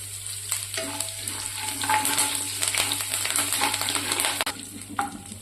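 Curry leaves, cumin and mustard seeds sizzle and crackle in hot oil for a festive Sankranti meal tempering, a loud continuous fry with sharp pops and occasional metal clinks of a spoon against the pan.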